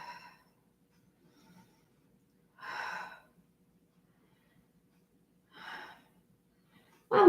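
Slow, deep breaths during yoga practice in a lizard pose, two soft airy exhales spaced a few seconds apart in a quiet room, followed by a louder breath at the end.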